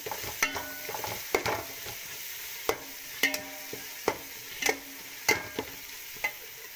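Curry leaves fry in hot oil for a prawn biryani under a soft steady sizzle, with a spoon scraping and clacking against the pan at irregular intervals.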